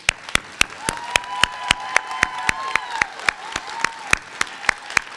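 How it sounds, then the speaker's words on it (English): One person clapping in a steady, evenly spaced rhythm, with a faint high tone sweeping underneath, rather than a full crowd's applause. "Let's give another round of applause for these."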